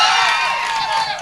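A live stage comedy audience in Bijapur breaks into a loud, close burst of cheering and clapping that swells at once and stays dense for a moment without easing.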